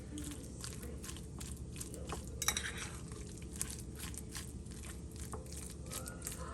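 Soft, squelchy mashing of very ripe avocados for homemade guacamole, quiet scraping and tapping of a utensil against a bowl with occasional clinks over a low background hum.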